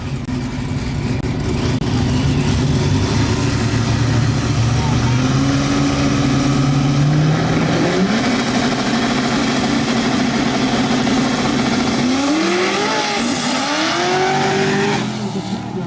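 A Nissan pickup and a Corvette launch in a drag race, engines droning loud and steady with rising revs and a whining pitch sweep near the end, under a crowd and announcer's chatter.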